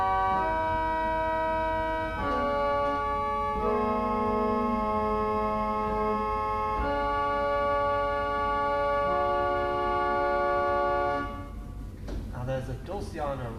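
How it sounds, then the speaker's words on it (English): The 4 foot Salicet violin stop of a J.J. Binns pipe organ plays sustained, bright, string-toned chords that change several times before stopping, leaving the room's reverberation. "Now we have a 4 foot Sally set, which is basically a 4 foot Geigen diapason or violin stop."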